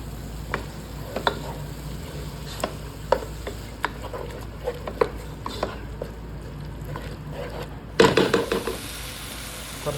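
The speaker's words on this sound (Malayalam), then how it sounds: "അപ്പം ഇച്ചിരി ലബാൻ ഒഴിക്കുകയാണ്." A spoon scrapes and taps steadily through sizzling prawn masala, then a sudden loud hissing burst rises as laban (buttermilk) is poured into the hot pan, fading over the last two seconds.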